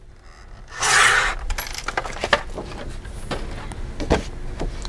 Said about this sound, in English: So I'm going to trim that off, and then trim off at that tick mark.